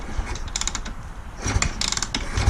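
Kicking over the kickstarter on a new fuel-injected Kawasaki KX450F dirt bike with the throttle closed gives a run of mechanical ratcheting clicks and clunks in a few bursts, close and fairly loud, with no engine catching.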